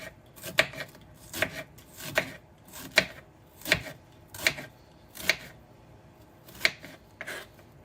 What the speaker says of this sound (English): So slice it in however size you want your onions to be.